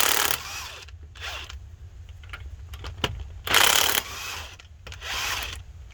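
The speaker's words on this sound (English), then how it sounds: "Take your 5 lug nuts off." Lug nuts being removed from the wheel of a 2011 Ford Explorer, giving bursts of ratcheting mechanical clicking and spinning separated by short pauses, close and moderately loud over a low background hum.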